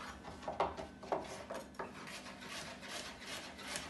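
Knife cutting carrots into pieces for vegetable soup: a few soft, uneven cutting and rubbing scrapes on a board, faint and close, with no talk.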